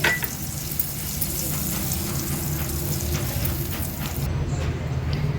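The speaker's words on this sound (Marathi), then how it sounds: "गॅसवर आपण एक पॅन किंवा नॉनस्टिकचा तवा ठेवायचा आहे ह्याला बटरनी व्यवस्थित ग्रीस करून घ्यायचे" Butter sizzles steadily on a greased nonstick pan set over a gas flame, a continuous soft crackle with no speech that holds throughout and fades slightly at the end.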